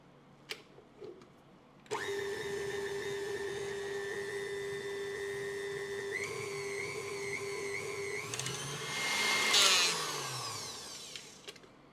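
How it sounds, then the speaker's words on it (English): Electric mixer beating cupcake batter at high speed, a steady whining motor hum that starts abruptly, shifts pitch midway, then surges louder before stopping, close and alone. "Beat them with high speed of electric mixer until fluffy and soft."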